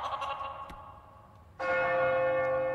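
A bell is struck twice: a fading ring gives way to a second, louder, bright strike that sustains with a long ringing tone, no voices.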